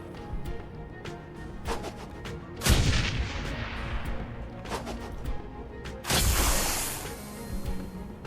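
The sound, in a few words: grenade launcher firing in Shadowrun Hong Kong video game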